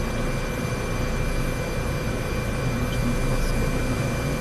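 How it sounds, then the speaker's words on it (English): A big helicopter flies in Microsoft Flight Simulator 2024, its engine and rotors a loud, steady roar that stays constant with no voices. "this helicopter is quite big. It will be very difficult to land."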